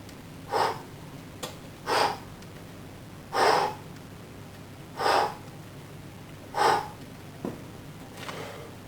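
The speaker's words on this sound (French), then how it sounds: "j'inspire sur la descente et j'expire à l'effort" Exercise breathing during leg raises for the lower abs: five or six strong, airy breaths spaced about every one and a half seconds, close and clear, with no talk over them.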